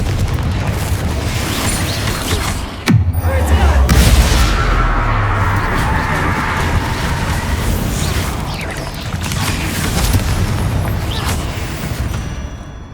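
Confringo fire spell blasts in Hogwarts Legacy: a deep boom sets off a loud, sustained rumbling roar of explosions and crashing debris that continues throughout.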